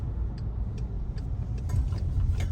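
A car rolling along a residential street while driving through a neighbourhood in Santa Lucía Milpas Altas, a steady low rumble with faint rhythmic ticking like a turn signal, fairly close, no talk.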